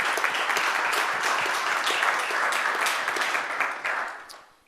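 An audience at an AIA architecture lecture claps, with steady, dense applause for several seconds that thins and fades out at the end.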